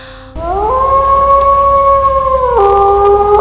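A wolf howls in one long, steady, mournful tone that shifts pitch partway through and holds for about three seconds, loud and clear, alone with no voices.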